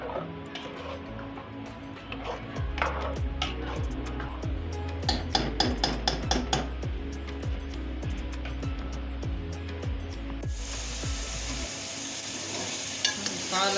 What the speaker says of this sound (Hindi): अब इसको 10 मिनट के लिए फ्राई करेंगे।